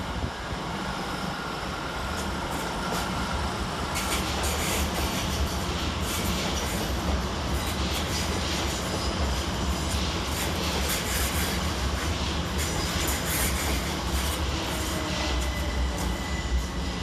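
A Class 387 Heathrow Express train pulls into London Paddington from Heathrow Terminal 5, a steady, loud rolling rumble with faint wheel squeal and clicking over rail joints, sustained throughout with no voices.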